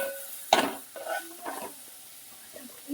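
Bottle gourd curry being stirred in a pan, with a few soft scrapes and clinks of a utensil against the metal over a faint sizzle, quiet and close, no talking.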